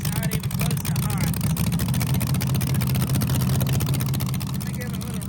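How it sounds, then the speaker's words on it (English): LS-swapped Ford Crown Victoria V8 idling with a heavy misfire on one dead cylinder, a loud, close, lumpy rumble with an uneven stumbling beat that runs on without a break. "we have a pretty heavy miss"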